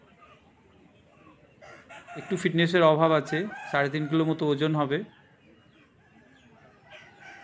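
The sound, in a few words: rooster crowing at a rural market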